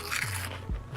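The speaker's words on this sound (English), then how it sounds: "You'd rather listen to crunchy munching than ASMR streams." Steak and wasabi flavored turtle chips being munched, a few quick crunchy bites and chews close to the microphone, fairly quiet.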